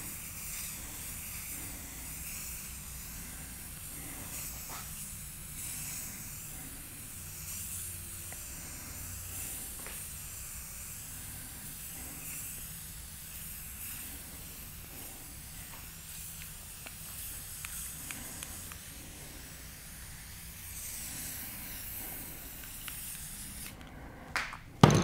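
Smoke-gray spray paint hisses steadily from an aerosol can as it fogs over an epoxy resin surface imitating soapstone, a close, continuous spray lasting the whole stretch with a brief clatter at the very end.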